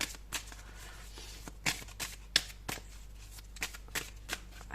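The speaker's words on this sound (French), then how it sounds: "Alors, on prend une troisième carte" Tarot cards being shuffled and drawn from a deck during a reading, with a string of soft papery riffles and flicks at uneven intervals, close and fairly quiet, with no talking over them.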